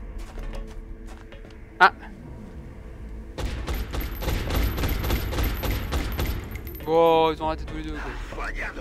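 Gunfire from a squad firing in the XCOM Enemy Within alien base assault, a scattered burst of shots and a sharp crack over a low battle rumble, with someone speaking faintly underneath.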